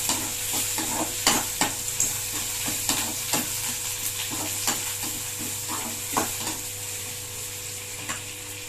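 Onion, garlic and curry leaves stir-fry in a pan with browned lentils while cooking a broad bean and egg poriyal, giving a steady sizzle broken by frequent rhythmic scrapes and stirs, close up with no voices.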